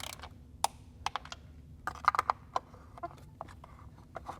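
A wrench tightens the oil filter housing bolts on a BMW B58 engine to 10 Nm: a run of sharp, close ratcheting clicks and small metallic taps, irregular and fairly quiet against a low steady background hum, no voices.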